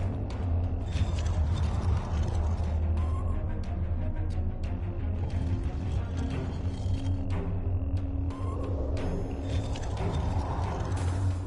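A stone pillar mechanism turning into place in Star Trek Online, with a dense grinding churn of gears and ratcheting clicks over a low rumble, continuous and loud throughout.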